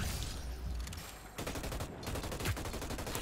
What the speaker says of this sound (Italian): La gente ci spara, io però faccio così.